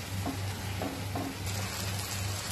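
Spice paste sizzling in hot oil for a South Indian mixed vegetable kurma, a steady close crackle and hiss with a few soft stirring scrapes, loud throughout and with no talking.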